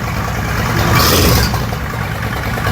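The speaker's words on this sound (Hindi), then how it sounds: "तो मोटरसाइकिल स्टार्ट हो चुकी है" A Kawasaki Vulcan 1500 cruiser motorcycle engine runs close by with a steady low rumble, briefly rising in a short rev before settling back.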